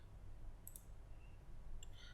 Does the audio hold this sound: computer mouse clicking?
yes